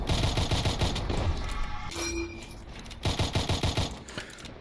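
A larva launcher in the video game MOHRTA fires in rapid bursts of loud shots, with a short pause in the middle before another fast volley. No one speaks.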